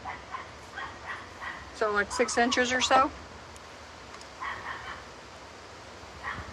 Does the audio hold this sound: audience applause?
no